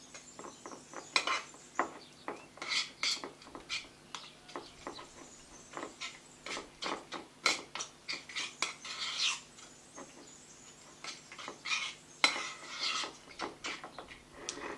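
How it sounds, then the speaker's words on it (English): Honey, spices and other spare rib marinade ingredients being stirred together in a dish, a close, uneven run of light scraping and clinking strokes of utensil against the bowl, no voices. "So what we do is we mix all these ingredients together really well."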